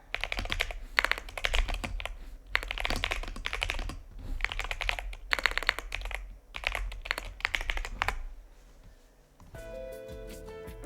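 Fast typing on a computer keyboard in quick, clattering bursts separated by short pauses, close and clear, ending with faint music.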